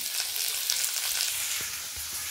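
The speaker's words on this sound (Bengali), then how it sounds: "বিনসটা কড়াই তুলেই দিয়েছি" Beans fry in a wok with a soft, continuous sizzle and crackle, fairly quiet and steady with a few faint stirring knocks.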